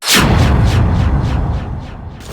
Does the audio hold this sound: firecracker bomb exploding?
yes